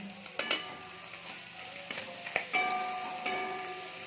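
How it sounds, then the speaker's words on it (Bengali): Shrimp fry in a pan for a mustard greens curry, giving a soft, steady sizzle close by, broken by a few sharp clinks and scrapes of a utensil. "এবার আমরা খুব ভালো করে চিংড়ি মাছটাকে ভেজে নেব"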